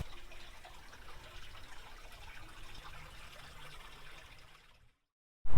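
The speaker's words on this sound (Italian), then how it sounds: "Siamo all'interno di una grotta e qui scorre il fiume di cui vi ho parlato prima" A river runs through a cave that serves as a restaurant in Catania, Sicily, giving a steady, close rushing trickle that fades out near the end before a sudden loud burst.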